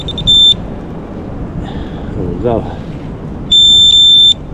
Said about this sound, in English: Then turn the bite alarm off